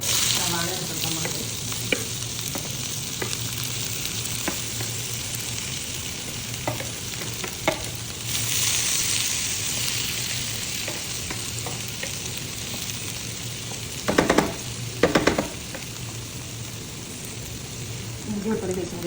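Onions fry in a pan with a constant close sizzle and hiss, joined by occasional clatters of a spoon against the pan while a voice talks faintly underneath.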